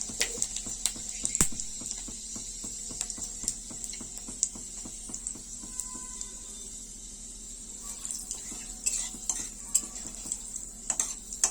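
Panch phoron whole spices spluttering in hot oil for a small fish curry, a faint sizzle laced with crisp ticks and pops, plus scattered spoon clinks against the pan.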